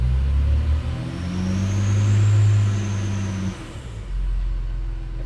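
Diesel engine of a Hercules Trackmobile railcar mover, heard from inside the cab, droning steadily with a low rumble that swells and eases as it revs, then drops to a lower idle near the end.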